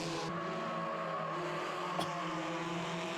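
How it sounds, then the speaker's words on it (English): SsangYong utes racing at Pukekohe circuit, engines revving hard with steady high-pitched drone and layered tones, a brief sharp burst near the middle, continuous and loud throughout with no talking. "Tyres screaming. Utes revving to the max."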